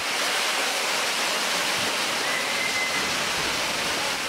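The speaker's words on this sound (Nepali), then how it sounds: "ठुलो छहरे झरना अर्थात् लौके झरना।" Lauke waterfall in Nuwakot, Nepal, roars as a loud, constant rush of falling water, a dense, unbroken wash heard close with no voices.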